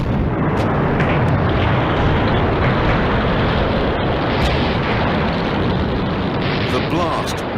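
A ship packed with explosives blows up against a stout dock gate caisson during a wartime raid, a loud, dense roar of blast and rushing debris sustained throughout, with rumbling low end and no clear separate bangs.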